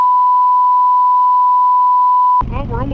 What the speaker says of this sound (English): It'd just be that sound that I have, just a beep.